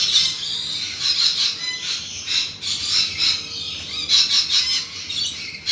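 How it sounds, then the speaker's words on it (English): Rainbow lorikeets in a park aviary give a busy run of shrill, high squawks and chirps, repeated in clustered bursts at close range with no talking. "So as I said, that's our rainbow lorikeets. There's a few in the nest boxes as well."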